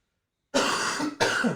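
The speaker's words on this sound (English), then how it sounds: "I can't get over this cough today" Two harsh coughs close up, one long and one short, after a moment of silence.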